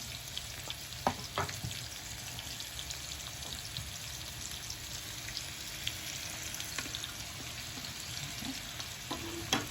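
Vegetables stir frying in a hot pan for a salmon and noodle stir fry, a soft even sizzle throughout with scattered crackles and occasional stirring scrapes, fairly quiet and free of talk.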